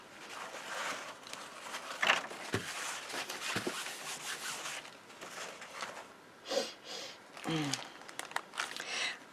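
Paper towel crinkles and rustles near the mic during watercolor powder work, with scattered soft crunches and handling noises spread over several seconds, no talk.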